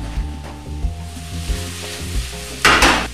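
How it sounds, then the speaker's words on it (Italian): Mushrooms fry in oil with a garlic clove in a pan, a steady close sizzle with periodic stirring knocks and a louder burst of sizzling toward the end. "L'olio sta friggendo con il suo spicchio d'aglio, aggiungiamo i funghi"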